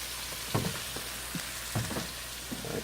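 Celery dropped into a hot pan, sizzling and frying, with a few sharp bursts of crackle over a steady hiss.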